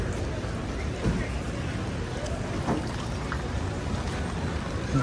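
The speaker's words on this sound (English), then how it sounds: "It's raining." Steady rain on a New York City street with a broad hiss over low street rumble, with a few brief louder spatters and faint distant voices in the background.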